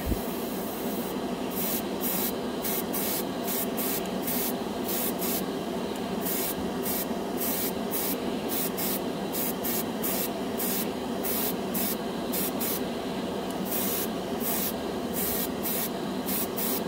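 An airbrush sprays Vallejo Air acrylic paint onto a scale model, a quiet continuous hiss broken by rhythmic short bursts as the trigger is pulsed, with no talking.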